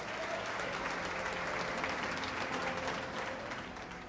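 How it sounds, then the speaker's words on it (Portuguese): A church congregation claps for Jesus from their seats, a steady, dense wash of applause that holds strong throughout, then eases slightly near the end. "No seu assento, aplaudindo a Jesus porque Ele é bom."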